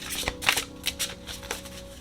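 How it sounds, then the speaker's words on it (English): Tarot cards being shuffled in quick riffling bursts, several crisp flurries of papery flicks close by, with no talking. "We're going to shuffle, shuffle, shuffle."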